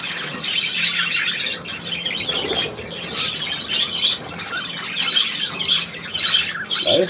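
Budgerigars squawk and chirp continuously in a busy, chattering flock, their shrill calls close and fairly loud, with a voice faintly present in places.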